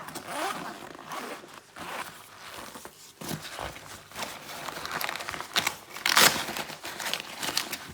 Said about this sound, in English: So on the front, I'm assuming that is a pocket. Yes, it's got a zip on it,